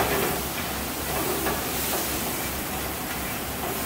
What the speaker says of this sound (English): we want the parsley to fry up a little bit